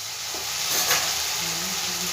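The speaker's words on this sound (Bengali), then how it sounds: "মশলাটা যতক্ষণ না তেল ছেড়ে দিচ্ছে মশলা থেকে ততক্ষণ আমি ভাজতে থাকবো।" Spice paste sizzling and being stirred in hot oil in a pan, a steady close frying hiss with soft scraping swells of stirring, no voices.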